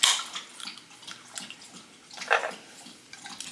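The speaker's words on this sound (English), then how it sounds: "The dog is drinking his water." A thirsty dog laps water from its bowl indoors, giving quiet wet splashing licks in short uneven bursts, with a stronger run of lapping partway through.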